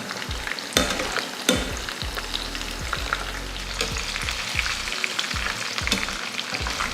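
Chicken chilli pieces deep-frying in oil and turned on both sides until crisp, giving a continuous close hiss and sizzle with repeated soft knocks and clatters of a utensil; no voices.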